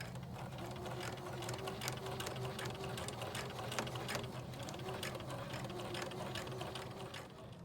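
A sewing machine stitches a fabric seam forward and in reverse, a close, continuous mechanical whirring hum with a fast regular needle chatter running steadily throughout, no voices.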